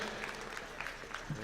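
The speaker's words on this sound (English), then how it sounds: "can we get a big round of applause for our Goku and our Superman?" A live crowd at a Goku versus Superman Death Battle screening claps and cheers for cosplayers, a steady wash of applause that is fairly faint and constant, with voices mixed in.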